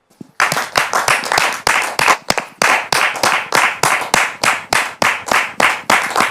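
A studio audience at a French-language television talk show breaks into loud, sustained applause, rhythmic clapping pulsing steadily after a brief silent start, with no talking over it.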